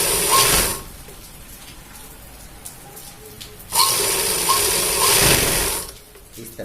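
A sewing machine stitches belt loops onto a pair of 36-waist trousers in two separate runs, a short burst and then a longer steady whirring stretch, close by with quiet pauses between.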